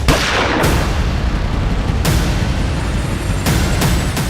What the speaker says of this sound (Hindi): गोली चल जाएगी